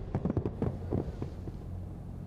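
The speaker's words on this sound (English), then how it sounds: "Fireworks wrapped up the sixth night of Balloon Fiesta." Fireworks at Balloon Fiesta Park in Albuquerque, a rapid cluster of sharp pops and crackling bursts in the first second, then a few scattered distant booms fading into a low rumbling background.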